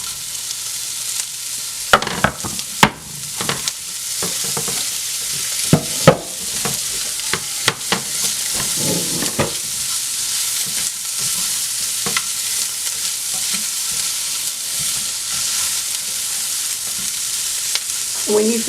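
Food frying in a skillet while being stirred, a steady sizzle broken by repeated scraping and clattering strokes of the utensil, close and moderately loud.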